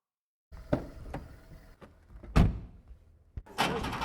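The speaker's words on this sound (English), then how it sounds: "Great Foley with the engine and car door." Car foley plays after a moment of silence: sharp door thumps and latch clicks, a brief engine rumble, then a rougher burst near the end, close and distinct.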